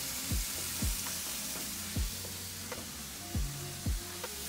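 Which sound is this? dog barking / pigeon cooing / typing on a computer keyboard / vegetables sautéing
vegetables sautéing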